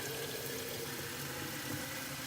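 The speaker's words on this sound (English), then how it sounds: "And you're gonna fill it up." Well water runs steadily into a glass container, a continuous close rushing pour with no pauses and no voices.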